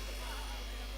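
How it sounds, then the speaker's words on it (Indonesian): A water-cooled electric fan whose water tank has run dry, giving off a steady mechanical buzz that stays level for the whole second, with a strong low hum beneath it and faint talk mixed in. "Oh, kipasnya airnya habis."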